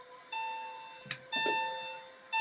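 A buzzer in a 1999 Porsche 996 instrument cluster on the bench, sounding three steady tonal beeps with short gaps, clear and close, with small clicks between them.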